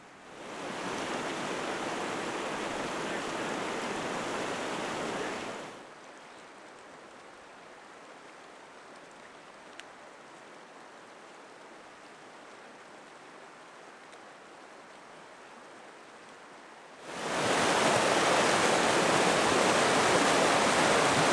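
A mountain creek rushes loud and close in a steady broadband wash, then drops to a faint distant murmur for about ten seconds before the full roar returns.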